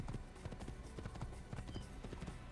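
Horse hooves galloping at full pelt in the Assassin's Creed video game, a steady rapid clip-clop rhythm of repeated close hoofbeats over a constant low game soundscape.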